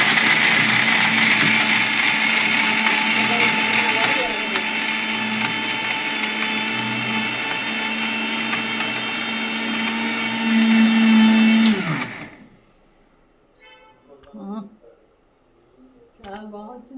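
A kitchen mixer grinder grinding prasadam flour whirs loudly and steadily for about twelve seconds, then cuts off sharply. Voices talk briefly in the quiet that follows.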